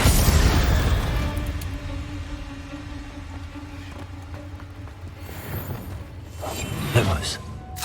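Confringo, an explosive fire spell cast in Hogwarts Legacy, lands as a deep booming blast at the start and decays into a rumbling tail with mechanical clatter, followed by a second, sharper burst near the end.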